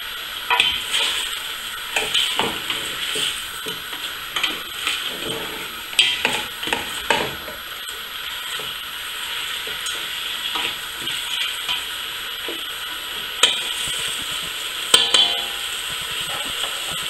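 A spoon stirring sea salt into a Cameroonian pumpkin seed sauce, with soft scraping and light clinks against the pot running steadily, close and moderately loud over a faint sizzling hiss.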